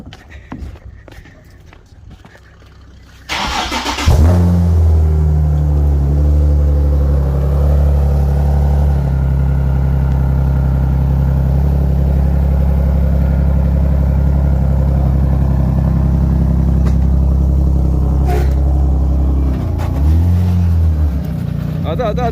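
A drift car's engine cranks briefly, catches, and settles into a loud steady idle rumble close by, with a small revving swell near the end.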